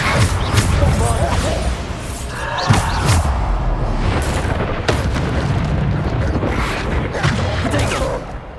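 Repeated booming blasts from the Bombarda spell in Hogwarts Legacy, several heavy thuds and explosions in quick succession amid combat noise, with a voice calling out spell names.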